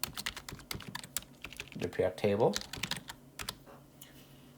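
Rapid keystrokes on a computer keyboard clatter steadily through the whole stretch, close and crisp, while a person speaks briefly in the middle.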